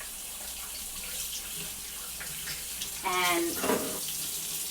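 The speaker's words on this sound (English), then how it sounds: "Let me go ahead and wash my hands." A kitchen tap runs steadily while hands are washed after making baked stuffed shells, a soft continuous water hiss that swells louder near the end, with a brief spoken word.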